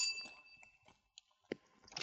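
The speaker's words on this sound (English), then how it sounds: "20 minutes later, I rang the bell at Duvall's place." A doorbell rings at a house in an old-time radio detective drama, a bright sustained chime that slowly fades, followed by a few soft clicks and bumps as the scene continues.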